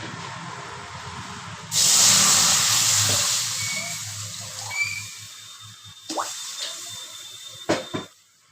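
Water splashes into a hot pan of fried moong dal with a sudden loud burst of hissing steam. The hiss fades over a few seconds, then a few scattered clinks and bumps follow near the end.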